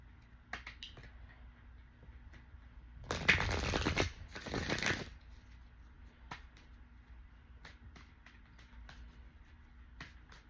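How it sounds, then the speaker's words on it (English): Two quick riffles of a card deck, each a dense papery burst lasting about a second, surrounded by soft scattered clicks and taps in a quiet room. "I'll just shuffle and I'll fix the cards as they come out."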